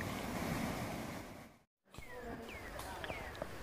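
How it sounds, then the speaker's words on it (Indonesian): A river stream on Mount Apui, its water mixed with hot sulphur spring runoff, rushes in a steady broadband wash that cuts out briefly midway, with faint bird chirps over the flow. "Sungai ini dinamakan Iceko karena airnya sudah bercampur dengan air panas belerang yang berasal dari Gunung Apui."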